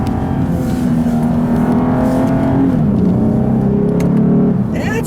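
A 2017 Lexus IS350 AWD engine runs loud and steady under acceleration, its pitch climbing, then dropping sharply at a manual upshift before rising again, heard from inside the car.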